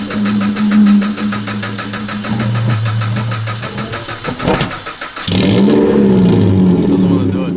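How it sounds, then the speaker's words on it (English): An adult-sized toy car engine revs loudly, its harmonic drone rising and falling before a sharp burst and a strong second rev that holds steady to the end, close to the microphone. "That noise would only come out of your car."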